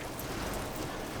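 Rain falls steadily around a cave in the American West, a soft, even hiss of drops that continues unbroken.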